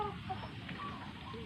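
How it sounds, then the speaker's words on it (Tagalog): Chicks and hens clucking softly inside a backyard coop, with faint, continuous peeping and low clucks at a distance and no nearby voices. "Silipin natin yung ating mga sisiw mga idol."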